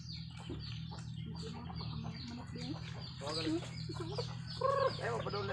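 Chickens cluck and call several times amid a steady low hum, with a louder squawk near the end and faint background voices.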